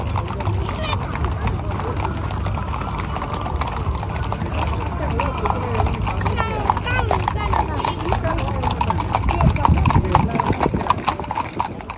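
Many horses walk together at an outdoor festival in Abu Dhabi, their hooves clip-clopping in a steady, dense patter that continues throughout, with crowd noise and voices talking underneath.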